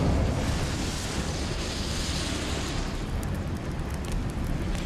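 Incendio fire spell cast in Hogwarts Legacy: a dense, roaring burst of flame that sustains loudly for several seconds, then thins into a softer rushing hiss with faint crackles, close and alone.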